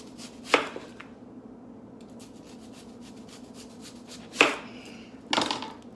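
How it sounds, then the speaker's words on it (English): A knife slices through a large onion to make thick rings, giving three separate crisp chops against a cutting board with quiet pauses between them. "you want to cut it straight as you can in chunks, big rings"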